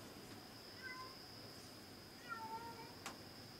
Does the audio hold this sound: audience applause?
no